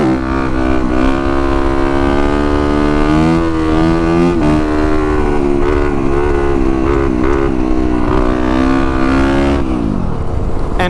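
A motorcycle in second gear holds a coaster wheelie, its engine droning loud and steady with a rich harmonic hum that wavers slightly throughout and drops away near the end.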